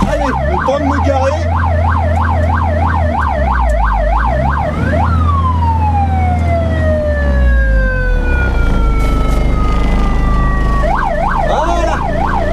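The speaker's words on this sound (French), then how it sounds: "Eh bah oui, c'est la sirène de recul." Repeated fast warbling wail of a former ambulance's reversing siren, loud and near over an idling engine, breaking into one long descending sweep before the warble briefly returns at the end.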